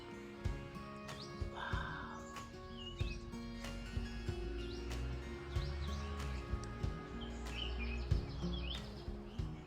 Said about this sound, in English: The birds that are you hearing are hundreds of different birds in the garden with nests all over.